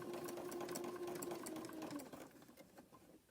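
A sewing machine stitching rope and fabric into a coaster, a close, fast mechanical whirring run of needle strokes that slows and fades toward the end, with no talking.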